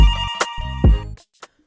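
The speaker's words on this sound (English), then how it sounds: "Phone is ringing." A telephone ringtone plays in a loud, close, repeating electronic chime pattern, then cuts off with a few short trailing blips.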